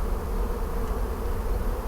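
Honeybees buzz inside a hive in a dense, continuous drone, loud and close with no pauses or talking.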